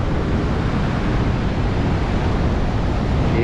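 Strong waves roll onto a sloping beach in Goa, a loud, continuous roar of surf mixed with heavy wind rumble on the microphone.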